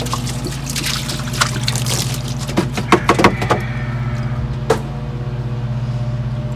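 Water trickles and splashes as something is rinsed on a farm, with a few brief sputtering bursts over the steady hum of a running engine nearby.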